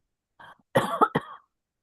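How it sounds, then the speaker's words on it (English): A short throat sound, then a brief burst of two or three sharp coughs close to the listener, with silence around them. "As I cough too"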